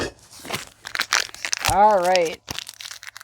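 A package of lemon shortbread cookies crinkles and tears as it is cut open, producing close, sharp plastic rustling and ripping in short bursts, with a person talking between them.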